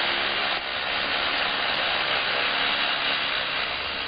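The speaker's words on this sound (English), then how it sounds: "Water pumped from the surface cools and lubricates the drill bit, but little can dampen its roar." A steady, loud mechanical roar of a water-cooled rock drill in a gold mine, continuous and harsh without pause, filling the whole clip.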